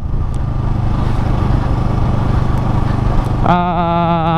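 A Yamaha R3 sport motorcycle's engine drones steadily and loudly while riding, with a rising tonal whine near the end as the revs climb.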